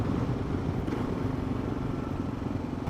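A Kawasaki KLR 650 motorcycle is ridden, its engine giving a steady, loud, continuous rumbling drone close by for the whole short stretch, with no talking.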